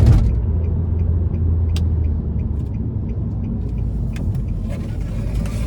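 A 2013 Nissan Juke SL with a 1.6-litre turbo four in Sport mode pulls out of a corner, its engine a steady, loud cabin drone and rumble with light road noise, heard from inside.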